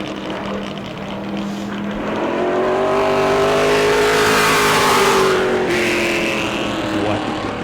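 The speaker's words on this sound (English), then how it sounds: "Stephen Redditt in the 84 is the next car up to qualify" Pro Late Model race car No. 84 on a qualifying lap at New Smyrna, its engine swelling loudly as it approaches and passes close by with a pitch drop, then droning away, steady and unaccompanied by voices.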